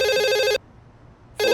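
Electronic telephone ring in two loud bursts with a short silent pause between them, a steady harmonic trill sounding alone.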